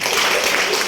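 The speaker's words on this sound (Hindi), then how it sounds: "एक बार जोरदार ताली दीजिए।" An audience bursts into loud, dense applause at a motivational success talk, a brief steady wash of clapping with no voices standing out.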